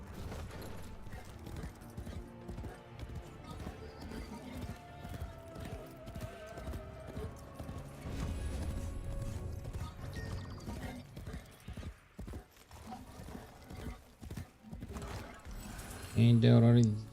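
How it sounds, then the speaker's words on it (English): Horse hooves clip-clop in a rhythmic stream in the video game Warframe, mixed with game sounds and spoken voices, ending in a louder burst. "Oh, the sounds that this horse make."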